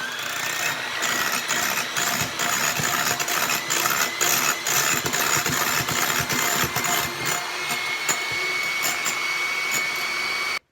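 An electric hand mixer whips egg whites to stiff peaks at maximum speed for a gâteau nantais, a steady high motor whine with rattling beater chatter throughout, close and unbroken.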